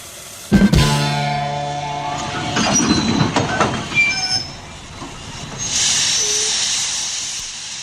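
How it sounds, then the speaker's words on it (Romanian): A passenger train pulls out of a station on the Apahida–Cluj-Napoca line, with a sharp clank and rumbling wagons, squealing wheels and a steady hiss of steam or air as it moves off, near and loud, with no talk. "Trenul cursă de persoane Apahita Cluj-Napoca pleacă de la linia 1."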